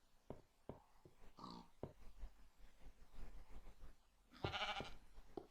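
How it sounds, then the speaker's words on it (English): Sheep in Minecraft bleating several times among scattered game clicks and footsteps, with a louder, longer bleat near the end; close and fairly quiet, with no speech. "Sheep snuck into my house."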